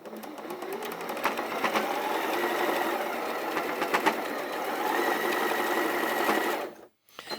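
Sewing machine stitching a quilt seam, a fast continuous mechanical whir with rapid needle ticking that runs steadily for about six and a half seconds before stopping abruptly.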